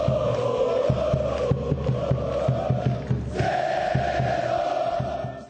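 Cruzeiro football supporters cheering and chanting in unison at a team training session, a loud sustained crowd roar with rhythmic clapping or drum-like beats pulsing throughout.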